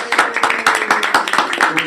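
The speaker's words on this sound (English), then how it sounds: "we can do a special applause for Matthias." Meeting participants break into a short burst of hand clapping, several pairs of hands giving quick irregular claps close to the microphone for about two seconds.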